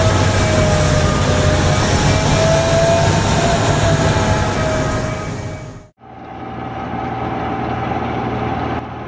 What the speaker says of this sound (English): Railway snowblower in Norway